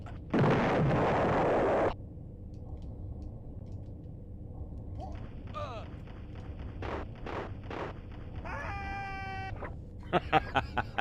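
A single loud, hissing grenade explosion in an Amiga video game lasts over a second, followed by quieter game bleeps and chirps.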